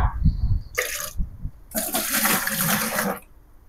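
Water scooped and drawn out of a small backyard fish pond holding guppies and snails: two loud, rushing splash-and-pour bursts, a short one followed by a longer gush, close by with no talking.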